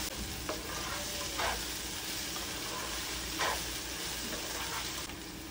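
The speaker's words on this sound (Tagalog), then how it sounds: "gisa-gisa ko lang siya hanggang sa mag-caramelize yung onions" Onions sautéing in oil for Filipino pancit bihon guisado, a steady close sizzle with a couple of soft stirring scrapes, alone with no talk.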